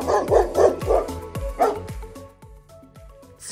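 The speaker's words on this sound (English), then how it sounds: "Dog." A dog gives a quick run of close, loud barks and yips in a fast, uneven rhythm over a light musical backing.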